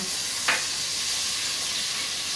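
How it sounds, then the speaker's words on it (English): Garlic sizzling in olive oil in a home cooking pan, a soft steady frying hiss with a brief crackle near the start, quiet and with no talking. "I'm gonna add this garlic into my olive oil."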